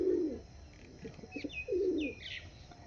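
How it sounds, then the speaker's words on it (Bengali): Pet pigeons at a Bengali pigeon fanciers' showing coo softly, a few low throaty calls spaced out over a faint background with some thin chirps, heard close but quiet and with no talk. "একদম বন্ধ দমের পায়রা দেখুন, পায়রা দেখুন।"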